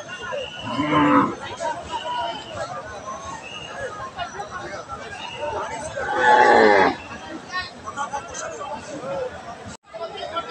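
Cattle at a busy Bangladeshi cattle market before Eid give two loud, drawn-out moos, one early and one longer, over constant crowd chatter and nearby voices.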